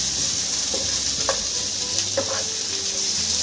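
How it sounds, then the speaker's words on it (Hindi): Masala arbi is stirred in a pan with garam masala and fresh coriander, the spoon scraping under a steady sizzle close up. "फ्रेश धनिया पत्ती इसे मैं ऐड करूँगी और इसे अच्छे से मिक्स कर दूँगी"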